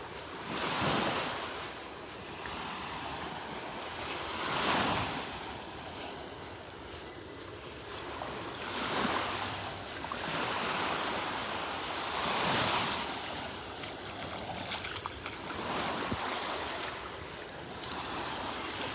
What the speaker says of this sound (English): We're just having some rough weather, windy weather